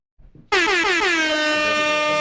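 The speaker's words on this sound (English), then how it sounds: "we're going to celebrate again with an air horn" A loud, sustained air horn blast blares close by after a brief rustle, holding its blaring tone for nearly two seconds.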